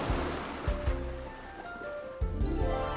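Ocean waves wash and break in a continuous rolling roar, with soft swells and surges layered under faint sustained musical tones.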